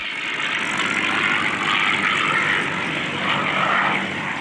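A piston warbird aircraft makes a slow roll over the runway centerline at a warbirds air show in Monroe, with its propeller engine drone holding steady and loud for the whole stretch. Wind or crowd noise sits under it, and no one speaks.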